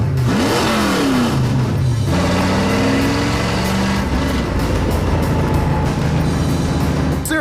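A street legal stock car's engine revs hard and loud up close, its pitch climbing and falling through several gear changes, with a clutchless Jericho four-speed, steady droning power filling the whole stretch.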